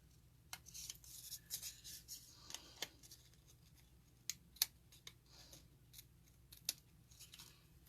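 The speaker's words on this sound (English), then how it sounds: "And then I'm going to take my snips, because this is a little bit wider." Snips cutting through paper card stock for a folded stamped card, a series of quiet crisp snipping clicks at an irregular pace, close up and isolated in a calm room.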